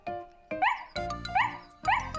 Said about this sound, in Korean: 스너피가 나타나 꼬리를 흔들고 팔짝팔짝 뛰며 짖었어요